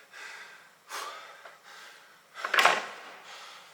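Heavy breathing after a sprint: several sharp, gasping breaths close up, uneven in rhythm, with one stronger gasp near the end and quiet pauses between.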